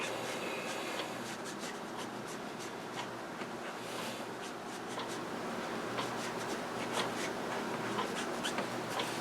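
Ink marker strokes scratching across paper while coloring in a pencil drawing, a steady run of short rubbing squeaks in a quiet room with no talk.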